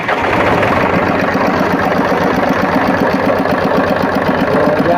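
Powertrac tractor diesel engine runs at a steady idle, a loud close chugging with a rapid, even knock and no talk over it.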